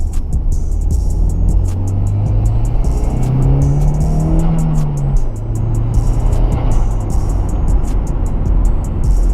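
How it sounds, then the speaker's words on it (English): A stock Nissan S13 200SX driven and drifted in the rain, heard from inside the car. The engine drones loud and steady, its pitch climbing and falling with the revs, with the whoosh of the turbo and a constant wet hiss over it all. "Oh, the turbo noise."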